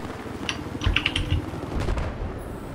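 Video game gunfire, likely Battlefield, crackles in a few quick bursts of shots with clicky transients over steady background game noise, moderately loud and close, no talking.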